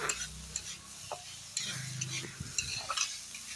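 Potatoes fry in a pan as a spoon stirs them, making clinking scrapes and knocks over a soft, steady sizzle, near and fairly quiet, with no voices.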